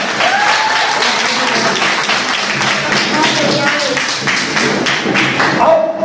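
Guests at a Christian ring ceremony applaud continuously, a thick, even wash of clapping with a voice heard alongside it.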